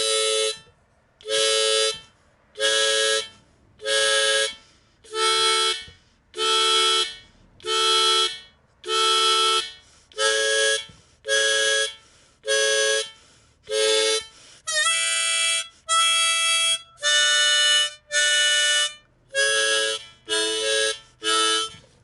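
Blues harmonica blows a chord in a long chain of reedy, buzzy pulses, sometimes shifting pitch, steady and close with short breaths between.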